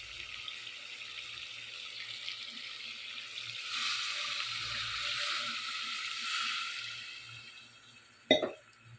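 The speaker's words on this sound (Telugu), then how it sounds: "ఇప్పుడు ఇందులోకి వాటర్ యాడ్ చేయాలి" Water pours into a cooking pot in a steady, soft hissing stream that swells in the middle, followed near the end by a single sharp clunk.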